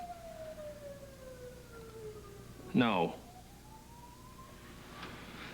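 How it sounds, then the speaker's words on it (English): Sirens wail faintly in the background, rising and falling tones drifting under a brief burst of nearby voices. "We were just listening to the sirens."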